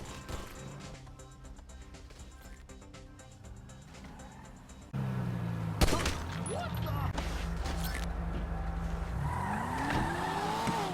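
Cars in GTA Online race and skid, with engine roars, tire squeals and a sharp crash or gunshot-like bang over game music, fairly quiet overall.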